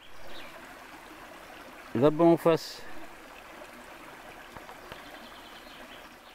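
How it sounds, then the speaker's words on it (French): A mountain stream flows below a hiker, a soft steady trickle and rush heard from above and slightly distant, with a brief stretch of speech partway through. "du ruisseau qui repart"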